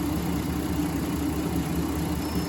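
A 2008 Dodge Nitro engine idles with a slight misfire despite a new spark plug, a steady mid-low running drone heard close up and alone, with no talk.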